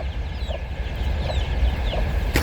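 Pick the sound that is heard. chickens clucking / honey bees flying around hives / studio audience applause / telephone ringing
chickens clucking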